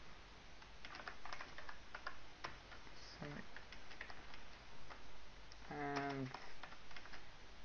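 Typing on a computer keyboard: a close, quiet run of rapid key clicks in irregular bursts, with a voice speaking briefly partway through.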